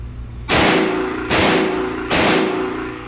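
Three loud, sharp reports spaced about a second apart ring out with metallic tails during a pistol shooting drill on a range, two to the body and one to the head, with no talking over them.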